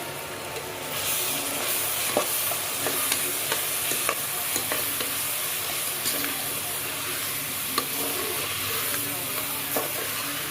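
Ginger-garlic paste and green chilies fry in a pan for vegetable pulao, giving a loud, constant sizzling hiss with repeated scraping stirs of a spoon close by.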